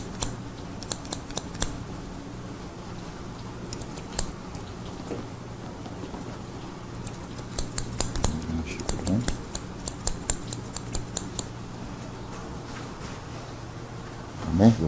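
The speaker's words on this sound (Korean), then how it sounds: "그다음에 시저 싱글링 또는 시저 오버콤" Hair-cutting scissors snip in quick irregular bursts, a scissor-over-comb technique at a barber training session, with crisp close clicks clustering in the second half over a low background hum.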